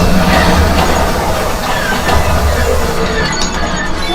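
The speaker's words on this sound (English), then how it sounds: "There's the train." Train sound effect on a Disneyland ride, a loud steady rumble of rail noise and clattering wheels with faint squeals, running continuously under the busy ride soundtrack.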